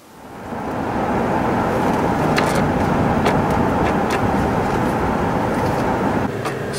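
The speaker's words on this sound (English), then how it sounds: "I've been driving around a little bit" Car cruising around the small town of Celina, Ohio, giving a steady, loud cabin rumble of engine and road noise with occasional faint ticks and rattles, and no talking.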